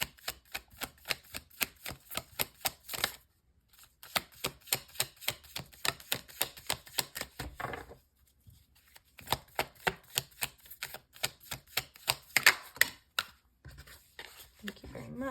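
Tarot cards shuffled for a reading, a rapid series of crisp riffling, tapping bursts in quick rhythmic clusters with brief pauses between, close and fairly loud.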